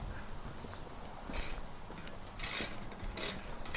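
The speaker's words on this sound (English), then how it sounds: "So I don't know why I'm using a wrench for this." Ratchet wrench clicking during an LED halo projector headlight install on an Acura RSX Type S, heard in three short bursts of rapid ratcheting over faint background noise.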